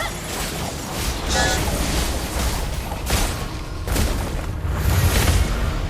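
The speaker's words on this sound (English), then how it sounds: "Your team destroyed a turret!" In the mobile game Mobile Legends, a turret is destroyed with heavy booming blasts and crashing impacts that layer into a dense, loud wash of battle effects.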